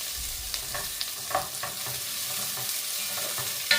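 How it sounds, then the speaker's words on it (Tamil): Chopped onions sauté in a pan for Sri Lankan-style devilled prawns, a steady close sizzle broken by occasional clicks and scrapes of stirring. "இதை போட்டு நல்லா வதக்கி விடுவோம்."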